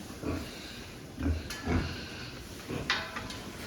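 Pigs freshly woken in a winter pen give several short, low grunts in separate bursts, close and moderately loud, with faint rustling and a few light knocks between them.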